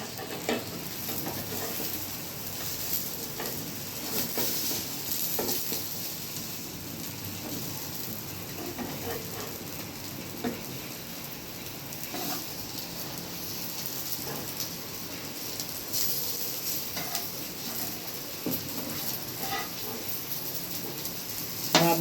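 Potato cutlets sizzle and fry steadily in a pan as snacks cook, a continuous close crackle with small pops and occasional stirring, no talking.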